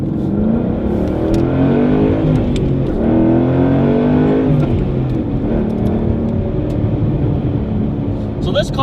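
Ford Mustang Boss 302 V8 engine pulling hard from inside the cabin, a loud steady drone with rising harmonics under gear, road and tire noise, continuous throughout.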